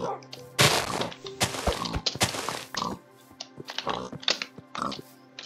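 Minecraft pigs grunt and oink in short bursts amid thumping hits and clicky keyboard taps, the sounds loud and close in an irregular rhythm.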